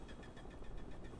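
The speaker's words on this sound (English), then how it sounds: "sekarang kita start balik engine" A Mitsubishi Evo 8 engine in the racing game NFS Unbound turning over and settling into a steady, mid-pitched idle, close and fairly quiet, with no talk.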